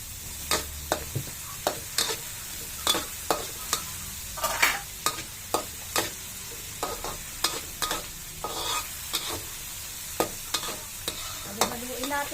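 Bagoong shrimp paste sautéed with tomatoes in a pan, with a spatula scraping and tapping in a steady rhythm over a soft, continuous sizzle, close and fairly quiet.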